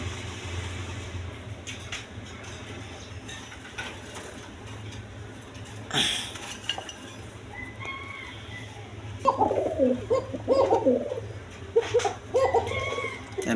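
Pigeons at a breeding farm, with low cooing and fowl-like calls building in the second half, several brief bursts over a steady low hum, and occasional knocks and clatter.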